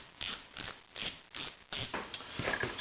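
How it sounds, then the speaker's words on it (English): A screwdriver backing screws out of a snowmobile skid's slide rails, giving a rhythmic series of about six close, crisp ratcheting clicks, evenly spaced roughly half a second apart, with nothing else heard. "Start backing our slides out with a screwdriver"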